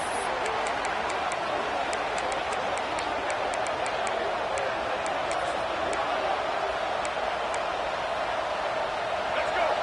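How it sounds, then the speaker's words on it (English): A steady roar of a large college football stadium crowd in the video game NCAA 26 fills the whole stretch, a constant wash of cheering noise with faint ticking clicks above it. "This crowd bringing the energy and noise early."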